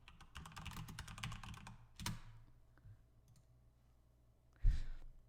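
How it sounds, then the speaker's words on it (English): Computer keyboard typing in short bursts of quick key clicks, fairly close and quiet, with a few sharper isolated clicks later and brief pauses in between. "I'm going to type something down"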